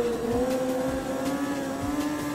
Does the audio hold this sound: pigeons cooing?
no